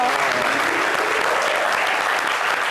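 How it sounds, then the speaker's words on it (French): Enthusiastic audience applause for a freshly painted picture at a live show, a dense, even roar of many hands clapping throughout, loud and unbroken. "est-ce qu'on peut applaudir pour ce beau tableau-là?"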